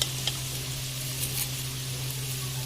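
Ojri (tripe) roasting in a pan for a village-style recipe gives a steady, moderate sizzle with a low hum underneath, continuous throughout with no voices.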